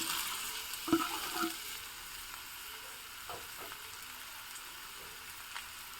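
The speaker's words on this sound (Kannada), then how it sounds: "ಎಣ್ಣೆ ಕಾಯ್ತಿರೋ ಹಾಗೆ ನಾನು ಇದಕ್ಕೆ ನೋಡಿ ಒಂದು ದೊಡ್ಡ ಸೈಜಿನ ಕ್ಯಾಪ್ಸಿಕಮ್ನ ಹೆಚ್ಕೊಂಡಿರೋದನ್ನು ಹಾಕಿದ್ದೀನಿ" Chopped capsicum fries in coconut oil in a pan, a soft steady sizzle with a few light clinks and stirring scrapes, fairly quiet and close.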